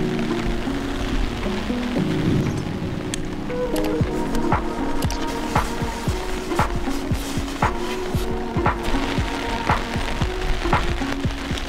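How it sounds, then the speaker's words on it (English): Steady rain patters at a hillside lookout in Chefchaouen, Morocco, a continuous wash of drops with scattered sharper ticks from nearby surfaces running throughout. "It is raining"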